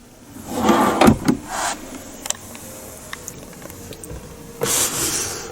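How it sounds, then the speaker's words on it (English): A rear drawer in the cabin of a 2025 Hyundai Santa Fe 1.6 hybrid slides open with a soft scrape and later pushes shut with a quieter slide, with faint clicks between. "Rear drawer."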